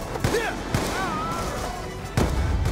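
Gunfire in the video game Call of Duty: Black Ops 2, in a Panama campaign mission, comes as a few sharp, scattered shots heard under excited talk from a player.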